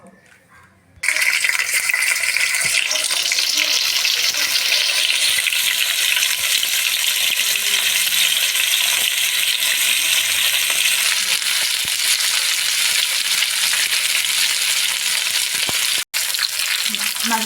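Katla fish pieces rubbed with salt and turmeric frying in oil, a sudden burst of loud sizzling after a quiet start that continues steadily up close, with brief clinks and a momentary break near the end.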